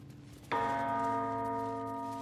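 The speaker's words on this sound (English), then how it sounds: "I think I hear a bell." A single bell in the video game Baldur's Gate 3 strikes once after a quiet moment, its sharp attack giving way to a rich, sustained ringing tone that slowly fades.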